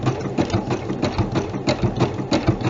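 A JUKI sewing machine stitching along fabric edges with a fringe foot, running steadily with a quick, even mechanical rhythm of needle strokes close up, alone with no talk.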